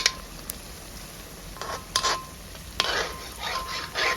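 Sweet ripe mango fritters fry in oil while a spoon stirs and scrapes the pan, so bursts of clattery scraping break through a steady background sizzle.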